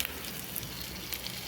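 Onion, ginger and garlic paste with spices fry in a pan, a soft, continuous sizzle with faint crackles and no voices.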